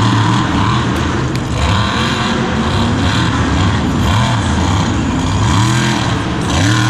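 A monster truck engine roars continuously and loudly at a Monster Jam stadium show, revving in rising and falling waves as the truck spins donuts, with dense crowd and arena noise underneath.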